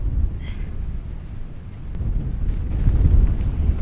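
Strong wind buffets the microphone with a low, rumbling roar that swells and gusts, growing heavier toward the end; no voices.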